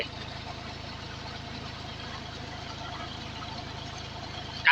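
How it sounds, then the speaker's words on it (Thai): A tractor engine drives a water pump through its PTO, giving a steady, mid-pitched idling drone with an even mechanical pulse that holds without change, ending in a brief louder bump. "เขาขับพีทีโอ มันแรงอยู่แล้วครับรถไถ"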